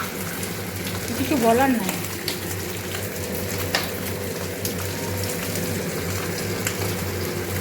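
Fish curry boils hard in a pan, giving a steady bubbling sizzle throughout. A voice speaks briefly over it near the start.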